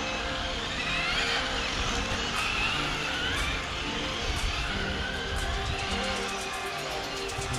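Two RC rally cars, a King Motor Explorer 6S and an Arrma Felony 8S, run continuously with loud broadband motor whine and tyre scrub on the surface, steady and close throughout without pauses.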